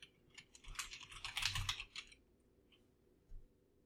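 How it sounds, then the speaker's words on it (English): Quick, light keystrokes patter on a computer keyboard in a short run of typing, fairly faint and close, followed by a pause and one last tap. "You start typing one in and it'll pop up with different options."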